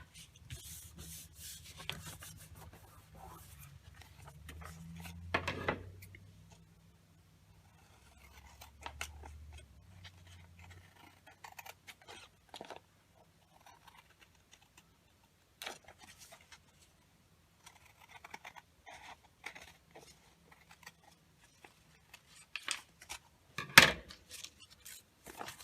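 Scissors cut paper and card while decorating an envelope, a scattered string of quiet close snips and rustles with long pauses, plus a couple of louder handling knocks.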